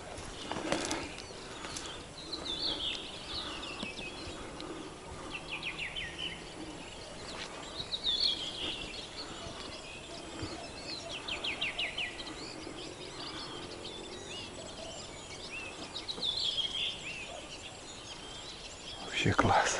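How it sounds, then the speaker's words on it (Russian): Birds sing in a spring forest, scattered chirps and short trills repeating at a moderate distance over a quiet background, with someone talking softly at times. "Слышите, птицы?"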